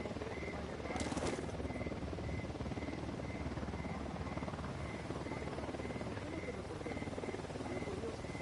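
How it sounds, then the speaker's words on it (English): A helicopter hovering in an online shooter game, a continuous low thudding rotor drone with steady chopping pulses filling the whole stretch, moderately loud with no clear talk over it. "Who need that chopper?"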